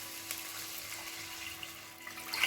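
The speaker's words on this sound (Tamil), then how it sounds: "நம்ம தண்ணியை சேர்த்து இந்த காயெல்லாம் கொதிக்க விட்டுடலாம்." Water poured into a cooking pot of vegetables while making egg vermicelli biryani, a faint, steady trickling stream that grows a little brighter and splashier toward the end, heard alone without talk.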